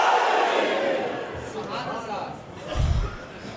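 A crowd at a Friday gathering shouts a religious slogan in unison, a loud burst of massed voices that swells and fades over a few seconds, with a deeper surge near the end.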